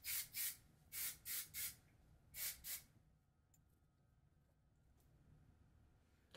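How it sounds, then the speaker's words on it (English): Wig wax is sprayed onto a wig in seven short, sharp hissing bursts, grouped two, three and two, followed by quiet handling noise. "I'm going to take some wig wax. I'm going to spray it."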